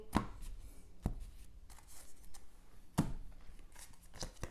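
Board game cards for a Marvel Champions game being shuffled by hand, with a few sharp riffle bursts spaced out between softer card handling and rustling, close and fairly quiet.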